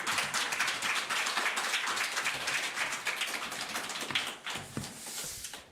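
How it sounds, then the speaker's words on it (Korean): A church congregation claps together in a dense, steady patter of many hands, close and moderately loud, continuing for several seconds before thinning toward the end. "오래간만에 나오니까 박수 한번 쳐주세요."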